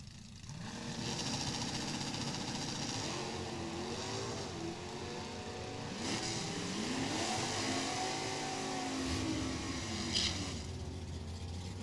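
1994 Chevrolet Camaro at a drag racing event, a loud engine rumble and revving with shifting pitch sweeps as cars run, carried over the distant din of the strip.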